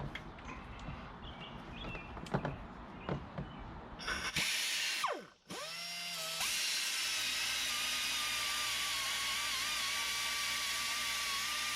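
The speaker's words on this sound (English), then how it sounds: "So now that the paint is ground off" An angle grinder strips paint off 1 by 1/2 inch steel rectangular tubing with about 0.93 wall thickness, cut as small feet for a Polaris Ranger 570 air setup. A few light knocks come first, then the grinder spins up loud, dips briefly, and whines steadily to the end.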